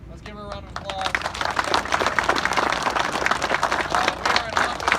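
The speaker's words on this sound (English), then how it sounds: "let's give her a round of applause" An audience at an event at Hocking College in Nelsonville, Ohio, breaks into steady applause that builds and holds, with crowd murmur mixed in.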